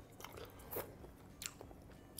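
Soft close-up chewing and biting on braised spicy chicken with vermicelli, enoki mushroom and sauce, with faint crunches over a quiet background.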